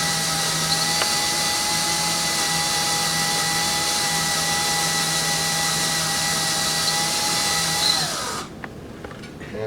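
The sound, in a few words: drill boring into a broken bolt with cutting fluid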